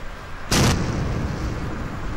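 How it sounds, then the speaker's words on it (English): One sharp, loud blast bursts out of steady background roar, cutting off quickly and leaving the rumbling ambient noise behind. "We're going to just detonate them one by one"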